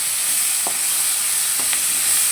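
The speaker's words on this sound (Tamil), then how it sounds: "தக்காளி கொஞ்சம் வதங்கிடுச்சு அடுத்தது கொஞ்சோண்டு கருவேப்பிலை சேர்த்துக்கலாம்" Curry leaves sizzling among sautéed tomatoes in a pan, a bright, even frying hiss with a few soft stirring taps.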